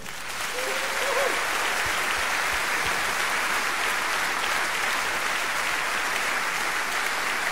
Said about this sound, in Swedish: Men de ska få stora applåder, tycker jag.